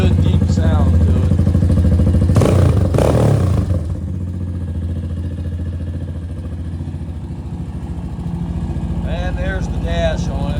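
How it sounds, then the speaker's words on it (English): A Venom Ghost motorcycle starts with a loud rev burst, then settles into a steady, deep, low exhaust idle that rumbles on, with a brief voice near the end. "let me start it up for you in case you've never heard the bike. It's got a really good deep sound to it."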